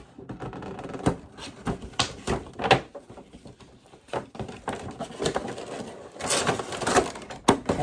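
A cardboard Funko Pop box for Boba Fett on his throne is handled and opened from the top, giving irregular clicks, taps and rustling scrapes of card at close range with no talking.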